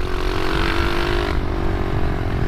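A mini motorcycle with a seized engine runs steadily nearby, a loud continuous buzzing drone with a harsh tone and no voices over it.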